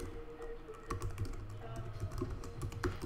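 Rapid keystrokes on a computer keyboard while a password is entered at a terminal during an OpenStack install on Ubuntu, a steady uneven run of close, soft clicks with no speech.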